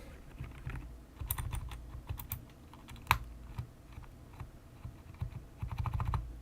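Typing on a computer keyboard with an upgraded keyboard, heard as rapid, uneven bursts of key clicks and one sharp louder clack, close and clear with no voices.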